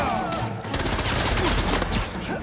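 Rapid bursts of gunfire crackle loudly and continuously in a fight in Marvel's Spider-Man 2, a dense fusillade with no pauses.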